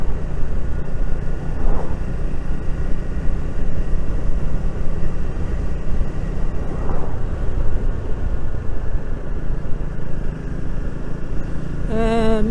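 Triumph Speed 400 motorcycle engine on a rutted road, a steady droning hum with brief rising pitch sweeps as the rider shifts gears, and heavy wind rush throughout.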